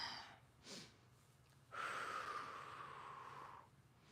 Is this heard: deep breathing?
yes